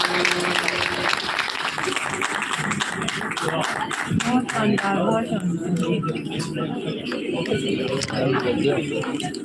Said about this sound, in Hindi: जोरदार तालियां इस शानदार और खूबसूरत प्रस्तुति के लिए